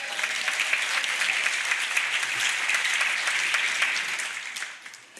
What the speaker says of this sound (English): Another round of applause for all of you for joining us.